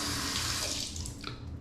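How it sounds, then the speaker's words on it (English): Tap water runs steadily into a bathroom sink for rinsing off after a shave, a close, continuous splashing hiss with no talking. "I'm going to rinse all this off."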